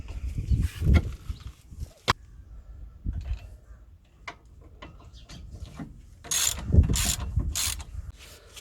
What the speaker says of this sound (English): torque them up now to the correct torque setting